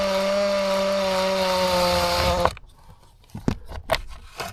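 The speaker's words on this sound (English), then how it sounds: "Now next step is removing those three screws that hold in this motor." A power tool whirs steadily and loudly while backing out the screws that hold a car's blower motor, then cuts off abruptly, followed by several sharp clicks and knocks close by.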